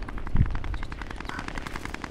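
Rapid automatic gunfire in the video game Warzone crackles in a quick, evenly spaced burst, with one heavier shot near the start, fairly faint and with no talk.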